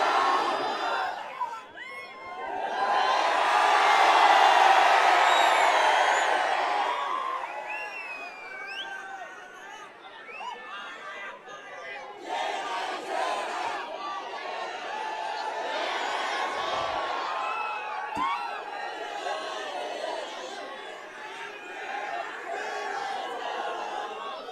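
A large outdoor political rally crowd at an Asaduddin Owaisi public meeting in Naregaon, Aurangabad roars and chants back loudly in unison, swelling to a peak before settling into a sustained, noisy murmur of cheering and shouting voices.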